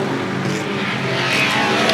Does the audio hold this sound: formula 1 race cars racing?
yes